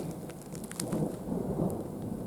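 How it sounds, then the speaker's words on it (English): An approaching mountain thunderstorm brings low rolling rumbles of thunder beneath a light, steady patter of rain on surfaces, heard outdoors with no voices. "thunderstorms rolling in, guys"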